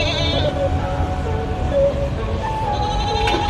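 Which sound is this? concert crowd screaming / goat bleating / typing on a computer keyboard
goat bleating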